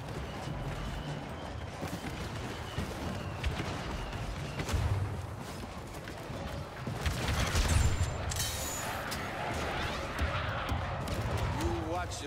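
Suppressive gunfire in Star Wars Battlefront 2 on Endor, a steady clatter of battlefield shots with bursts of heavier fire around the middle, continuous under a dense game mix.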